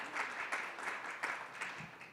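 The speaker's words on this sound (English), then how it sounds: "big round of applause" Steady crowd applause with a dense patter of clapping, fairly loud and continuous for a couple of seconds, without any talking over it.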